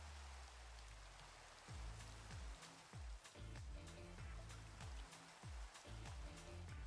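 Rain in Minecraft: a steady hiss of falling rain throughout, with soft thumping game sounds and clicks partway through, fairly quiet with no talking.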